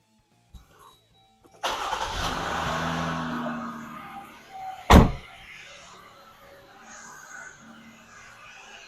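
A Jeep Wrangler engine cranks and catches at close range, settling into a steady idle with a sharp knock midway, then running on quietly.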